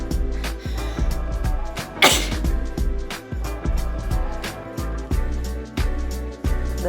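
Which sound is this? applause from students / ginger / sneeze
sneeze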